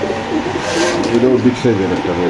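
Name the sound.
pigeons cooing at a pigeon sale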